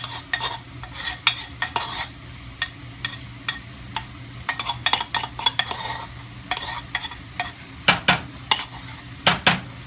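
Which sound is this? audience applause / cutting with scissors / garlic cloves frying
garlic cloves frying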